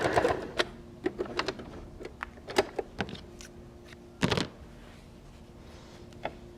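A sewing machine stitches a seam on a microwave potato bag in short bursts, with sharp clicks and brief runs of needle chatter separated by pauses, close and fairly quiet.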